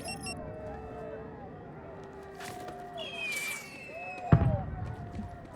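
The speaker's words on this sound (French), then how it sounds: "C'est des enfants qui jouent avec des pétards" Firecrackers set off by children outside, heard as a few sharp pops and a louder bang near the end against steady background noise and game sounds.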